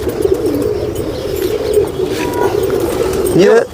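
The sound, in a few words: pigeon cooing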